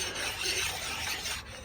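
Scrubbing the mating surfaces of 6.0 PowerStroke cylinder heads in circular motions, a soft continuous rasping rub, close and fairly quiet.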